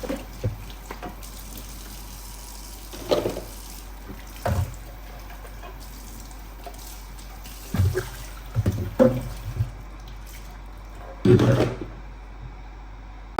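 Blender parts are washed under running water at a sink, with intermittent splashes and clatters standing out over a faint steady background, separate bursts spaced irregularly throughout.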